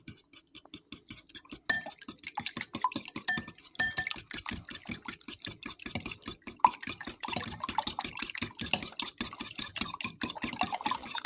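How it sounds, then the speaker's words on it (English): Eggs with sea salt, garlic and spices are whisked briskly in a bowl, a fast, regular run of clinking taps and wet sloshing strokes heard up close and alone. "Just whisk it about a minute or so, and all of the yolks will break down."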